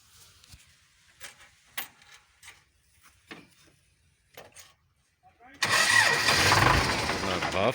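An old MTZ 50 tractor engine, a 1999 model, cranks and catches after several seconds of quiet clicks and faint knocks, then runs loud and rough close by to the end.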